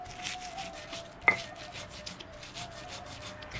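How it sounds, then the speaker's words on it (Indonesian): Spices are ground by hand with coarse salt for a Minang chicken curry, heard as a quiet, repeated rhythmic scraping and rubbing of stone on stone with one sharper knock partway through, alone without talk. "Giling sampai halus."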